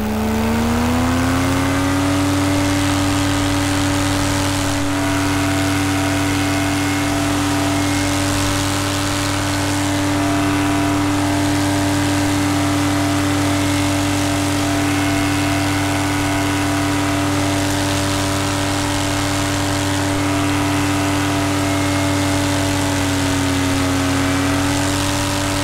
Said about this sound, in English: That was a full throttle 4-blade prop climb.